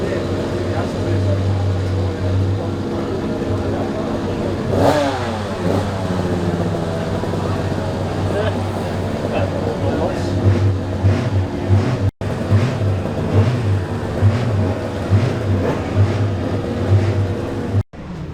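A senior-class BSA classic racing motorcycle runs in a paddock pit with a steady, close engine drone and a brief rising rev near the middle, heard under continuous talk with two short cut-outs.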